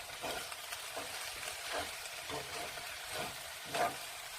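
Cabbage is stir-fried in a pan over medium heat, a soft continuous sizzle broken by rhythmic scraping turns of the spatula about every half second, close and fairly quiet, with no speech.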